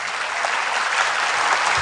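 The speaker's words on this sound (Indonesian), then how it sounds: "tepuk tangan dulu untuk BKKBN ya" An audience at a BKKBN kickoff event on stunting prevention claps steadily and loudly, a thick unbroken wave of hands with no talking over it.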